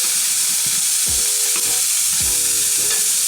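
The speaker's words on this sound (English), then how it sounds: "And I'm just gonna kind of stir it in." Potatoes frying in a pan, stirred with a spoon, a constant loud sizzle broken by a few scraping strokes, heard close up with no voices.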